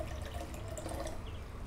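Water poured from a container onto thawed frozen blueberries, a close, steady splashing gurgle lasting under two seconds.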